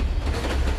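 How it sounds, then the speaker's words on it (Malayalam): A train rumbles along a railway with a continuous, loud rolling roar and faint wheel clatter, close and steady, in a horror film scene. "കേൾക്കുന്നില്ലേ ട്രെയിനിന്റെ ശബ്ദം?"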